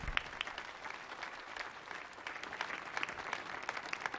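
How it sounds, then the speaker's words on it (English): Steady audience applause for a drummer at a Millennium Stage concert, dense and continuous clapping with a few sharper claps standing out, filling the whole stretch without any voices over it. "give a round of applause to my fantastic drummer, John Epcar, straight from New York City."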